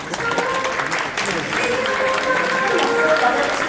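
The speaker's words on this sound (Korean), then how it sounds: "큰 박수로 환영해 주시기 바랍니다" Wedding guests give loud, sustained applause as the bride enters the hall, with music tones running under the clapping and a voice speaking over it.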